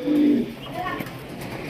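A fancy racing pigeon coos softly at close range, giving one low burbling call at the start and then quieter throaty murmurs, all under someone talking nearby.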